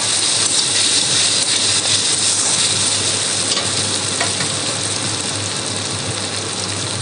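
Chopped medium-sized tomatoes fry in a pan with a steady, loud broadband sizzle and occasional stirring scrapes, continuous throughout with no talking.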